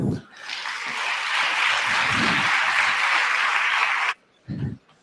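Audience applause at a music hack day presentation, a dense wash of clapping lasting about four seconds, then stopping abruptly, followed by a short burst of low murmuring.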